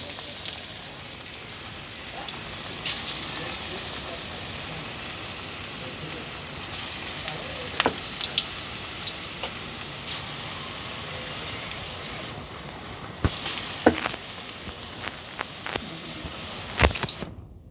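Onion pakoras frying in hot oil, giving a steady close crackling sizzle like light rain, with scattered sharper pops and spits throughout.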